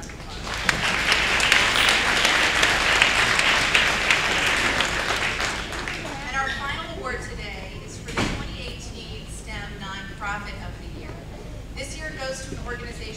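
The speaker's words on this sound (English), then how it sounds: "So please, let's give her a round of applause." Audience applause at a K-12 STEM symposium, a dense, loud burst of clapping for about six seconds that fades out, followed by a speaker talking.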